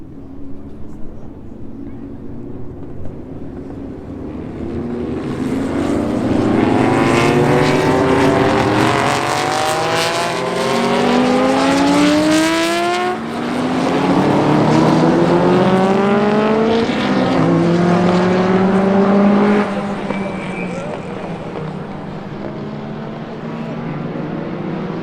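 Classic race cars on a Tour Auto 2020 stage, released from behind the safety car at a corner, roar past one after another, with loud engine notes swelling, rising and fading as each car accelerates away over a long stretch.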